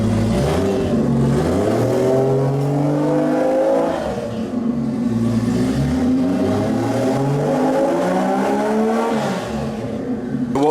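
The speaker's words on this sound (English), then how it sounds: "We're just going to start the car up now with the gearbox off." A Toyota Chaser with a 1.5JZ engine idles and revs with its gearbox removed, a loud, close engine whose pitch rises and falls in a few smooth swells, alone without talk.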